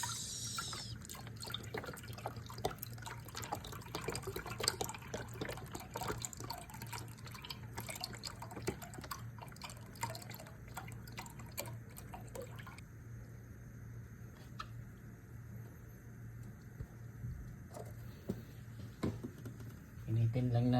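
Milk poured out for homemade yogurt, a steady liquid splashing and dripping that runs for about twenty seconds at a fairly soft level, with a low hum underneath.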